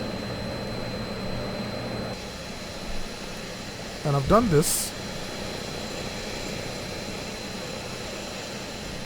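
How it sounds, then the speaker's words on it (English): Simulated aircraft engine idling in the X-Plane flight game, a steady broadband drone running throughout while someone talks briefly over it. "If you notice, I've actually kept the plane running."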